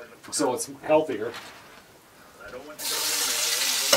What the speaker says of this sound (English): let's make it even worse by frying our potatoes in the pork fat